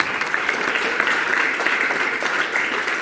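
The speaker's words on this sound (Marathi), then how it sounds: "एकदा महात्मा फुले आणि सावित्रीबाई बद्दल एकदा जोरदार टाळ्या वाजवतो" Loud, dense applause from a lecture audience honouring Mahatma Phule and Savitribai, many hands clapping steadily throughout without a break.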